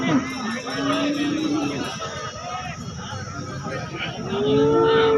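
Cows moo repeatedly in long, wavering calls, several overlapping, amid a busy crowd of voices chattering nearby at the Sangola cattle market.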